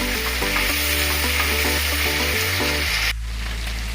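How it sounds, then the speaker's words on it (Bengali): Spiced masala for katla kalia frying in oil over medium heat with a splash of water, giving a steady close hiss under background music that cuts off abruptly near the end. "বেশ সুন্দরভাবে মশলাটাকে কষাতে হবে মিডিয়াম আঁচে"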